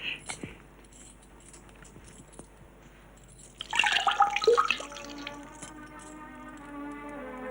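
Water poured from a vessel for handwashing, a brief splashing gush with scattered drips following some light knocks and clinks, fairly close, with quiet voices.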